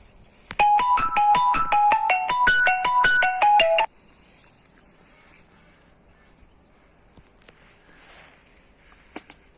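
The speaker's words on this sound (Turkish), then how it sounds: "Bu arada telefon çaldı." A mobile phone ringtone rings outdoors in a village, a loud, repeating melodic electronic pattern lasting about three seconds before cutting off, leaving quiet open-air ambience with a few faint sounds.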